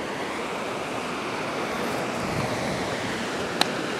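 Ocean waves crash and wash continuously at Devils Churn on the Oregon coast, a broad steady roar of surf with a brief sharp click near the end, no voices.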